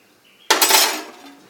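A metal ladle strikes and scrapes inside a pot of bottle gourd tamarind curry: one sharp, loud clank that rings briefly and fades, with no talking.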